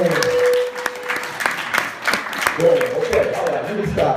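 Scattered clapping from a crowd at a United Way African American Leadership Council event, uneven and moderately loud, mixed with voices talking over it.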